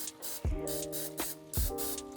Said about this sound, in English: I'm gonna lightly spray about 6 of them.